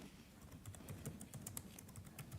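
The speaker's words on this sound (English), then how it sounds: "So I could keep typing. I could keep typing in information here." Keys on a computer keyboard are tapped in a quick, irregular run of light clicks, soft and close, with no voice present.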